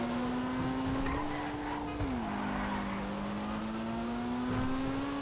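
A Pfister Growler racing in Grand Theft Auto Online, its engine holding a steady, loud drone that dips in pitch briefly as it shifts and then climbs again, with faint tire noise beneath.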